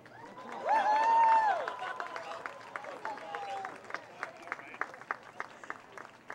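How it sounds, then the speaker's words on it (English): Clapping from a group at a college homecoming event rises with a cheer and a whistle, then thins into scattered individual claps that slowly taper off. "Applause."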